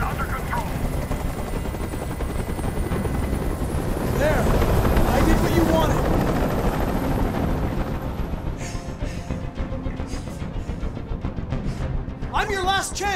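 A helicopter hovers in the video game Detroit: Become Human, a loud steady rotor drone filling the scene, with character voices speaking over it toward the end.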